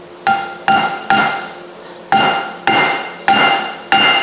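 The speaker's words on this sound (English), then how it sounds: "I'm going to take my ball peen hammer and I'm going to use the end" A steel ball peen hammer strikes the end of a nut on a push broom repair, peening it over like a rivet: seven sharp metallic blows in uneven rhythm, close and loud, each ringing briefly.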